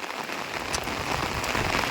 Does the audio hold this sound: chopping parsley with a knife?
no